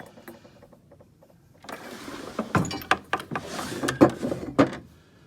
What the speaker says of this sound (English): I'll just go through each of these drawers.